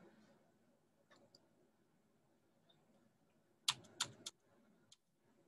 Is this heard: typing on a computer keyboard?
yes